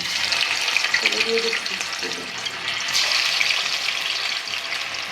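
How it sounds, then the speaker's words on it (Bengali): Chicken shashlik pieces go one by one into hot oil, setting off a continuous, close sizzle and crackle of frying that holds steady throughout, with a faint voice briefly in the background. "একে একে আমি সাসলিকগুলি ছেড়ে দিচ্ছি।"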